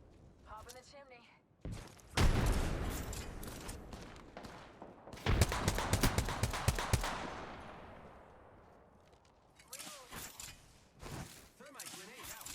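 Frag grenade blasts and rapid gunfire in Apex Legends, loud broadband bursts and a long decaying explosion wash, with bright gunshot crackles returning near the end, all close and dense.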